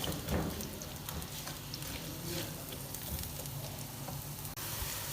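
Continuous sizzling of onions frying in a pan, with occasional stirring clatter, steady and close throughout.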